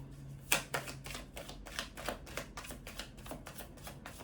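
Tarot cards shuffled by hand, a steady series of about a dozen crisp riffling slaps in an even rhythm, close and fairly quiet, with no talking.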